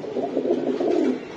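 A pigeon that is for sale coos in a low, throaty, rolling burble, heard close and clear with no talk over it.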